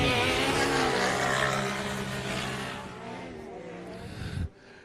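Race cars start a 15-lap track race with a loud, droning engine roar that holds steady and then fades away before cutting off abruptly.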